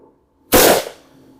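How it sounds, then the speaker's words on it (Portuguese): A single sharp, loud rifle gunshot crack, close by, with a short fading tail, at a shooting range while zeroing a Vector Optics S6 LPVO scope. "Vamos dar uma olhada em alguns tiros."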